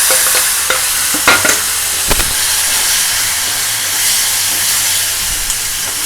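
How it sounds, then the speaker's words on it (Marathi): Oil sizzles and hisses steadily in a hot pan while a utensil scrapes and stirs now and then, close and loud. "चांगला तेलामध्ये चांगलं परतून घ्यायचं"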